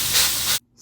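Steak warming on a Blackstone griddle gives a loud, steady sizzling hiss that cuts off abruptly after a moment.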